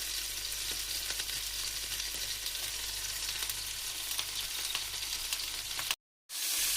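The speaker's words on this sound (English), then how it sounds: "So I'm just about to fry off the last ones." Gyoza dumplings fry in a pan with a steady close hissing sizzle that runs throughout, broken only by a brief moment of silence near the end.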